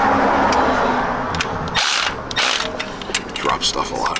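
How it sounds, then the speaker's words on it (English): A Snap-on ratchet clicks in quick bursts while being turned during alternator and battery work on a Jeep Wrangler TJ, the sharp ratcheting close and separated by brief pauses. "This is actually my favorite ratchet ever."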